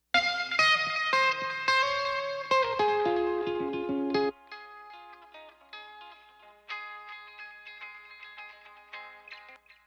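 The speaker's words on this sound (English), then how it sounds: "So we've got an electric guitar delay." Electric guitar played through a delay set to a thin, wiry transmitter-emulation echo; a few loud sustained chords and notes ring, then cut off, leaving quieter repeating echoes that trail on alone.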